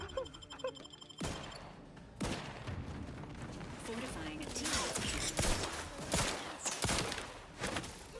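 Gunfire in the video game The Outer Worlds 2, a series of sharp loud shots and bursts, some close and punchy, spread unevenly across a few seconds of combat, with voices talking in between.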